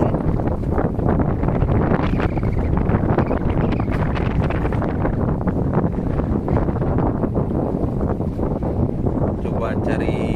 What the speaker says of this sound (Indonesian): Cuacanya angin selatan.